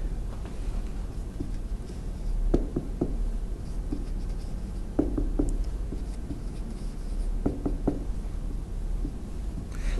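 Persian words are written by hand on a board in a grammar lesson, a faint scratching of pen strokes with scattered sharp taps over a low steady hum.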